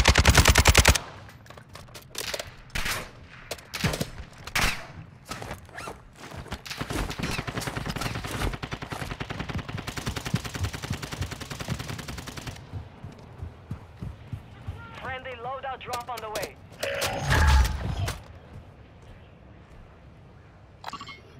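Call of Duty Modern Warfare II game combat, with rapid automatic gunfire in loud, dense bursts and sustained rattling fire, then quieter stretches with scattered shots and clinks; voices talk intermittently.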